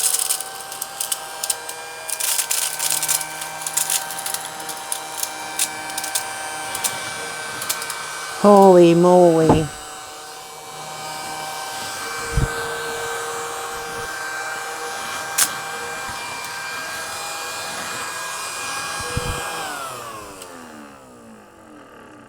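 A small desk vacuum whirs on and runs steadily while sucking up diamond painting drills from a table, then winds down; brief rattles and a short exclamation break in partway through.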